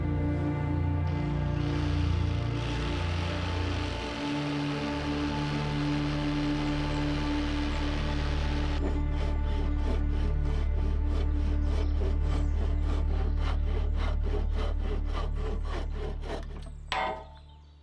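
Handsaw cutting through wood boards for a homestead garden bed, a steady rasping drone that turns into rapid, evenly spaced push-pull strokes, loud and close, alone with no talking.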